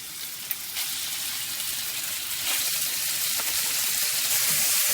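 Bacon fries in a little olive oil in a pan with a steady, bright sizzle that grows slightly louder and denser over the few seconds, close and continuous, with no talking.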